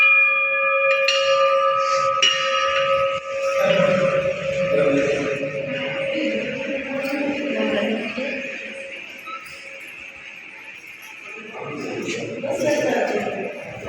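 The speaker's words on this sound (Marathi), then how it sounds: "बघा एवढ्या मोठ्या सगळ्या घंट्या आहेत" Large bells ring at a Hindu temple of Khandoba, with a sustained metallic ringing tone and overtones running through the whole stretch, while people talk nearby in the background.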